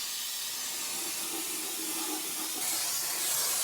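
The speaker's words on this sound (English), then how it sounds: "And here we're just going to use some brake cleaner really." Brake cleaner spraying from an aerosol can onto a BMW E36 188mm limited-slip differential during restoration, a steady close hiss lasting a few seconds with no talking.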